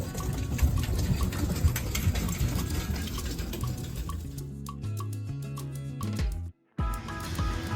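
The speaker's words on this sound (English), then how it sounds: "We are vacuum packing the steaks, which will increase their longevity really." A vacuum sealer vacuum-packs steaks aboard a Rustler 42 yacht, running as a steady mechanical whir with watery gurgling and drips, then its pitch drops into a lower, steadier hum before cutting off abruptly and briefly restarting.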